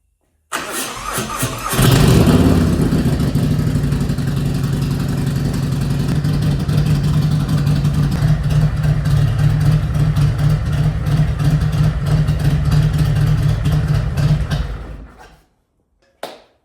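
A Harley motorcycle engine on a bagger with a freshly replaced battery cranks and fires, then rumbles loudly and steadily nearby with revving for over ten seconds before cutting off abruptly.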